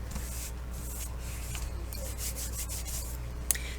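A hand rubs and smooths a laminating pouch over cardstock, a quiet steady papery swishing with one small tick near the end.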